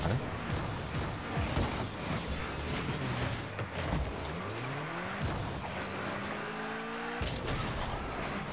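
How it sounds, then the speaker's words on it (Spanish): Car engines rev and whine in the Rocket League video game, with rising and falling pitch sweeps as cars boost past, mixed with impacts and game effects in a busy, loud match. "Me está taladrando la oreja el coche."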